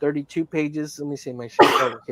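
A single sharp sneeze bursts out in the middle of a casual conversation, loud and close, with people talking just before and after it.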